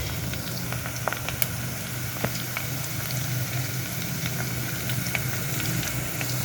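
A homemade hair oil mixture cooks in a pan on the stove, giving a steady, soft sizzling bubble with occasional sharper pops and crackles throughout, with no talking.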